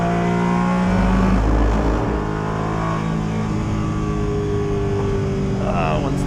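A Porsche 718 Cayman GT4 Clubsport races on track, its engine roaring loudly from onboard with rising revs broken by quick gear changes through the final corner, a dense, continuous howl throughout.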